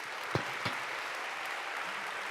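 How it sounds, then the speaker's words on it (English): Steady clapping from a crowd fills the clip, a broad continuous wash of applause with a couple of sharper claps near the start. "Give a big applause for Ms. Dorothee Bär."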